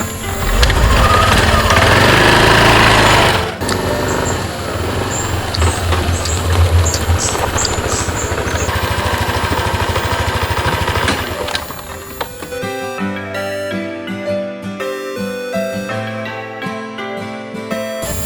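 A borrowed motorcycle's engine runs loud and steady with a buzzing, rattling drone for about twelve seconds, then cuts away as music takes over for the rest.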